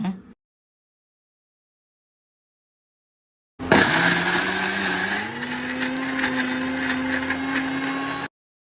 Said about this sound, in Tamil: இப்போ மிக்சியில் போட்டு அரைச்சிடலாம் வாங்க